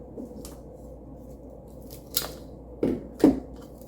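Scissors snip material for a rustic wooden fairy house in a bonsai garden, a few close, crisp cuts with two sharper snips near the end over quiet room tone, with no talking.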